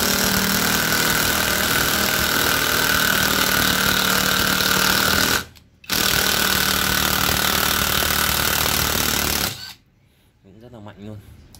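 A DEKTON 330Nm cordless impact driver drives a screw into dry, not very hard wood, giving a loud, continuous rattling whir that stops briefly once, resumes, then cuts off near the end as quieter sounds follow.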